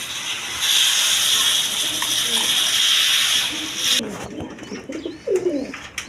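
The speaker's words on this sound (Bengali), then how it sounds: "এখানে এক পেয়ার জ্যাকোবিন কবুতর আছে একদম কোয়ালিটি সম্পন্ন কবুতর" A pair of Jacobin pigeons coo softly over a steady hissing background, then a few louder low coos and wing or body rustles stand out near the end.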